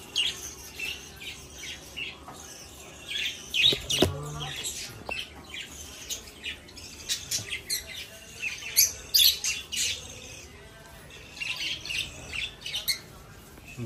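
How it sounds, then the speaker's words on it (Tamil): Small pet lovebirds kept indoors at a home chirp and squawk continuously, with rapid overlapping high-pitched calls coming in uneven bursts, close and lively. "இந்த மாதிரி உங்கள் வீட்டில் குட்டி குட்டி குருவி வச்சிட்டிங்கன்னா அது கத்திக்கிட்டே இருக்கிறப்போ ஒரு நேச்சுரல் பிளேஸில் இருக்கிற மாதிரி இருக்கும்"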